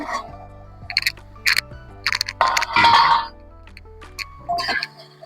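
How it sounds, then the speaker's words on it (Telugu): Metal clinks and scrapes as a lid is lifted off a cooking pot of ridge gourd and dried prawn curry, a few sharp clatters over a quiet steady tone. "మూత తీసి చూద్దామండి ఇప్పుడు"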